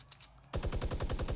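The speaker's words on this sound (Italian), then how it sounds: "Continua a sparare quel muro, Fre." After a quiet moment, a rapid burst of automatic gunfire in the video game Fortnite erupts, a fast, even rattle of shots at a wall continuing to the end.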